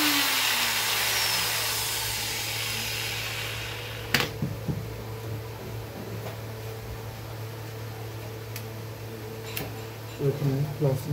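A faulty 801 grinding machine with a failing armature: a loud motor whir fades over the first few seconds and settles into a steady low hum, broken by scattered sharp clicks and knocks.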